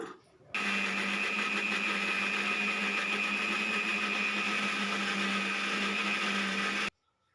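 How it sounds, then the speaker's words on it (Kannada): A mixer grinder whirs steadily at full power, blending fried onion and chilli powder into a chutney, with a constant motor hum and a high whine that start abruptly and cut off after about six seconds. "ಈಗ ಅದೇ ಜಾರಿಗೆ ಫ್ರೈ ಮಾಡಿರುವಂಥ ಈರುಳ್ಳಿ ಖಾರದ ಪುಡಿ ಇವೆಲ್ಲವನ್ನು ಹಾಕ್ಕೊಂಡು ಮಿಕ್ಸಿ ಮಾಡ್ಕೊಳ್ಳೋಣ"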